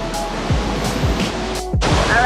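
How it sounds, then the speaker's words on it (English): Broad, steady roar of water pouring at La Fortuna Waterfall in Costa Rica, a dense close rush that fills the whole clip with a few brief bursts and thuds over it, no talking. "we're here at La Fortuna Waterfall"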